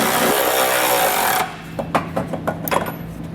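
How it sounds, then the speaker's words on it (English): A power tool drives a 3/4 inch socket to snug trailer hitch bolts on a 2017 Ford Edge, first a loud continuous whirring burst, then a series of short ratcheting clicks and knocks. "I'm going to come back with a 3/4 inch socket and snug everything down."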